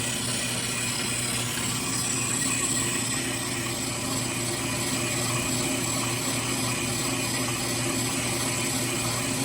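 A brake lathe steadily shaves a thin layer off warped StopTech brake rotors, a continuous loud grinding, whirring machine noise with a constant hum underneath and no pauses.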